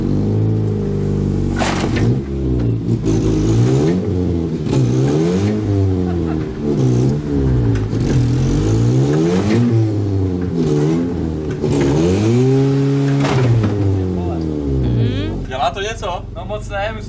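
Passenger car engine revving hard and repeatedly, rising and falling in pitch, as it strains to pull out a tree stump; loud and close, with voices speaking over it.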